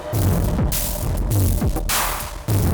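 A heavily distorted, crunchy, bass-heavy sound from a Neold BIG AL distortion effect grinds along loudly, broken by a few brief dropouts.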